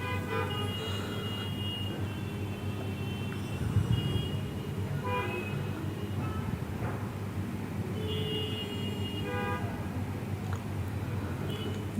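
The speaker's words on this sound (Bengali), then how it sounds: "এখানে যে গাড়িগুলো যাচ্ছে" Vehicles moving past on an airport apron at Netaji Subhash Chandra Bose International Airport, a steady low engine rumble with a few brief horn-like toots, continuous over about twelve seconds.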